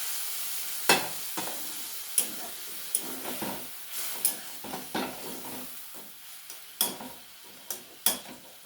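Bitter gourd frying in a pan while being stirred: a constant sizzling hiss broken by sharp, regular scraping clacks of a spatula against the pan roughly every second, close up, no talk.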